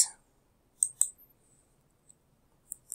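Sharp mouse clicks on a website's get started button, a few isolated close clicks with a quick double click near the start and faint ticks later, otherwise quiet.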